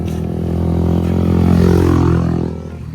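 A motorcycle engine running nearby, a loud steady drone that swells as it revs up and then eases back off toward the end, with no talk.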